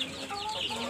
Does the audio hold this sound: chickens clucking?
yes